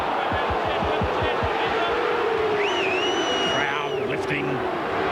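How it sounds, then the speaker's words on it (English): Rugby league stadium crowd at a 2001 NRL match between Newcastle and Parramatta, a dense steady roar that swells and lifts near the end of a set of tackles, with a commentator talking over it. "Crowd lifting."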